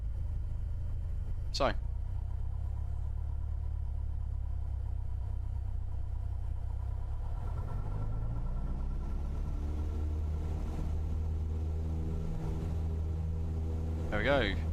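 A Cessna 172 piston engine in Microsoft Flight Simulator, using the Boris Audio Works sound pack, drones low and steady, then revs up with rising tones. Someone talks over it now and then.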